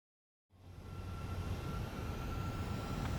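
A video-game jet aircraft taxiing: a steady, full engine roar with a thin whine starts abruptly and holds evenly, close and alone with no voices.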